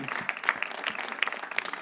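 Clapping from a church congregation during a sermon, with dense crowd applause and several sharper individual claps standing out near the front, brief and lively.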